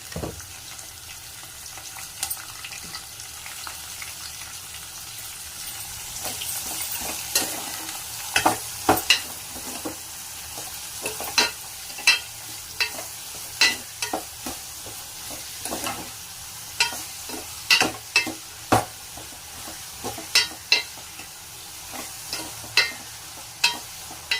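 Long-cut sliced onions fry in a pan with a steady low sizzle, while a spoon scrapes and stirs them in repeated sharp clinks and scrapes that grow more frequent and louder in the second half.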